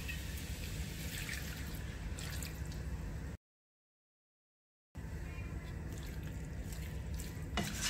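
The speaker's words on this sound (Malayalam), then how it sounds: "1/2 കപ്പോളം നല്ല തിളച്ച വെള്ളം ഒഴിച്ചു കൊടുക്കാം." Boiling water poured into a Kerala-style prawn roast cooking in a pan gives a faint, soft trickle and drip, interrupted by a brief silent gap before the quiet liquid sound resumes.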